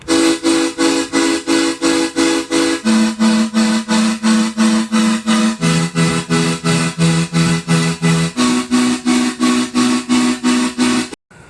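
Eurobeat chord stacks made in FL Studio play as short, choppy stabs with a shortened sustain, repeating in a steady fast rhythm. The chord shifts a few times, the stabs stay loud and alone, and the sound cuts off at the end.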